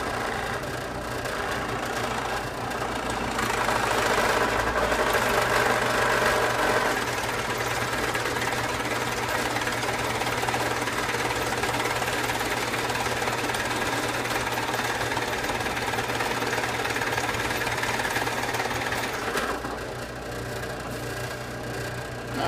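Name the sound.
drill press drilling a hole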